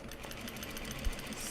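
A sewing machine runs a basting stitch through slippery Japanese denim fabric, a steady rapid mechanical chatter of needle strokes lasting under two seconds, close and fairly quiet.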